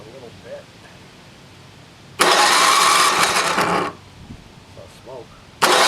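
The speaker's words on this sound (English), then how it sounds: "we'll hitch up the electric start and see what happens" A NOMA 8hp snowblower engine is cranked by its electric starter, a loud grinding whir for under two seconds that stops, then starts again briefly; a voice murmurs between attempts.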